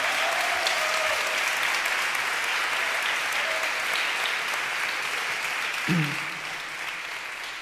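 Sustained applause from a large concert crowd at a show at the Casa Rosada, dense and steady, gradually thinning toward the end.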